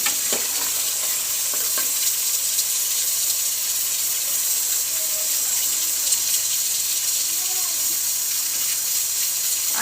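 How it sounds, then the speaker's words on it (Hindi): Haleem mixture being fried and stirred in a pot, a steady bright sizzle that holds throughout with occasional scrapes of the spoon, close and continuous with no talking. "अब इसको हम थोड़ा सा भून लेते हैं।"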